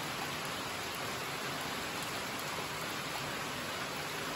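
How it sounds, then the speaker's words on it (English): Steady, dense rush of rainwater falling in a yard waterfall, a constant broadband roar without breaks, like a small waterfall pouring nearby. "This is our natural waterfall"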